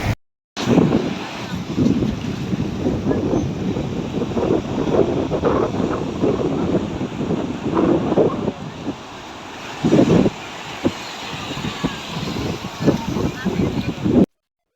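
Sea waves surge and wash onto Somnath beach in Gujarat, a steady broadband roar with wind buffeting the microphone, loud and continuous with swelling surges throughout.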